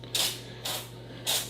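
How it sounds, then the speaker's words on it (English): Three crisp bursts from a kitchen spray bottle misting an eggplant salad, each spritz a short bright hiss about half a second apart, close and clear over a faint steady hum. "Now, the fun little spray bottle."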